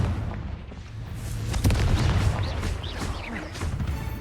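The Confringo fire spell in Hogwarts Legacy, cast inside a cave, sets off a rumbling booming blast with crackling debris that swells and fades over a few seconds, with faint speech around it.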